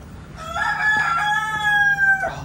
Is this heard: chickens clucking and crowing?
yes